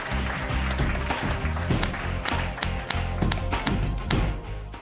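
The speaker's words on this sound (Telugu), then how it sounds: "అనసూయ గారికి మళ్ళీ చప్పట్లు" Studio audience applause for Anasuya on a Telugu TV show set, a dense, steady clapping that holds across the whole stretch with rhythmic accented thumps.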